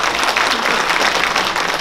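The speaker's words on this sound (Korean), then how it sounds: "박수!" A crowd at a Korean public gathering bursts into loud, continuous applause, thick and even throughout the short stretch with no pauses.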